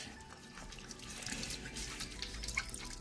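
Water from a tap running over a makeup brush while soap is rinsed out, a steady close splashing stream with light trickles and drips, with no talk.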